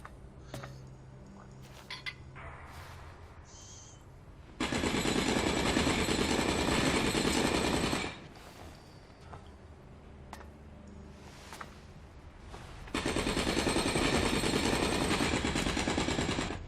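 A jackhammer in the video game Elex hammers in two long, loud, continuous bursts of rapid pounding, with quieter game ambience in the gaps between them.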